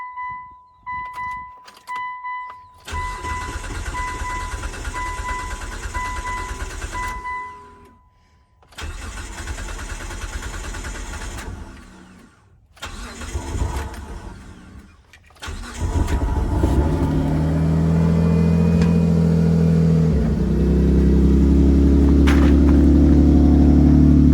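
Dodge Stratus RT Coupe with a newly installed fuel pump: several bursts of key-on priming and cranking, then the engine catches with a loud start and settles into a steady, close idle.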